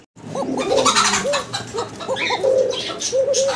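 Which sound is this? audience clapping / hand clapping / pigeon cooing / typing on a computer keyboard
pigeon cooing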